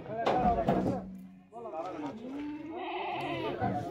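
Kathiawadi goats bleat nearby in several wavering calls, mixed with people talking in the background.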